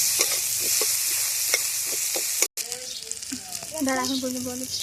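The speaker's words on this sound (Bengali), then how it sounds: "ভালো করে ভেজে নেব।" Sliced onions and bay leaves frying in hot oil in a pan for a Bengali fish curry, a steady close sizzle with a few stirring scrapes, briefly cut off midway, then continuing with faint tonal kitchen sounds.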